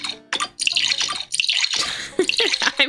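Watery sound effects from a Banjo-Kazooie puzzle level come in choppy bursts of dripping and sloshing, loud and close with short gaps between them.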